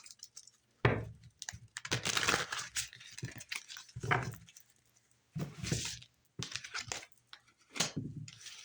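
Tarot cards being shuffled in short bursts of crisp riffling and slapping, close up, with brief pauses between handfuls.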